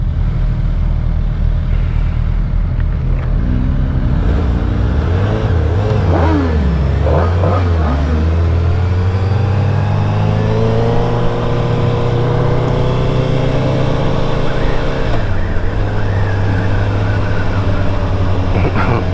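A 2022 Suzuki Hayabusa motorcycle engine revs loud and close, climbing and falling through several throttle swells before settling into a steady, continuous drone.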